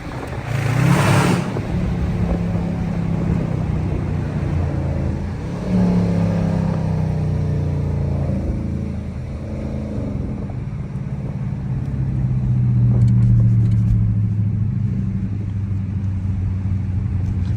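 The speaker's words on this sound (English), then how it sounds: "I'm gonna take y'all through the city real quick. Do some downshifts and stuff there" A 5.7 HEMI V8 car engine rumbles and revs on a city drive, rising and falling through downshifts with a deep, steady drone and a sharper burst near the start, heard from inside the car.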